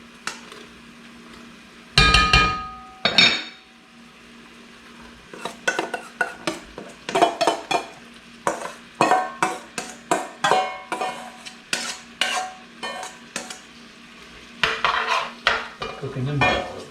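Vegetables and teal giblets cook in a pan over a camp fire, heard as irregular bursts of a utensil scraping and clattering against the metal, with quiet gaps between and a low, faint hum underneath.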